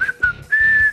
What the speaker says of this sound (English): here comes the magic whistle